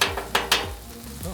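Mango chicken fried rice stir fry sizzling and being stirred in a pan, with a few sharp scraping bursts of the utensil over a steady low frying hiss, close by.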